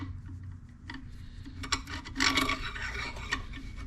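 A metal clamp is fitted onto the end of a 200-4R automatic transmission during a rebuild, giving close rasping, rubbing scrapes and small ticking clicks that build to a brief louder grinding burst, with no talking.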